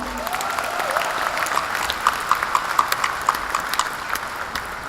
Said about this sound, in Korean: 늘 같이 있겠다 라는 약속의 뜨거운 다짐에 박수를 한번 부탁합니다